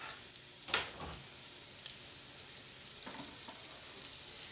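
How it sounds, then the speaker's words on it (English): Diced pork chop frying in a hot pan, a steady close sizzle with crackling bursts and a louder spatter near the start, no voices over it. "This is diced up pork chop that I'm going to be putting in this one. I'm just going to fry that up."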